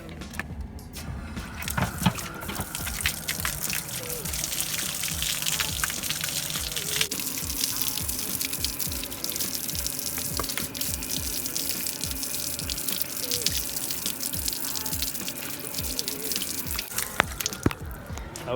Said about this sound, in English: I'm going to rinse the bike off with water.